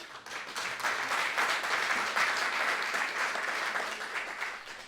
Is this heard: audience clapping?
yes